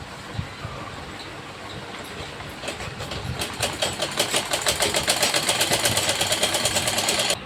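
A sewing machine stitches fabric for an Afghani salwar. After a quiet start, the machine speeds into a steady, rapid clatter that holds close and even until the end.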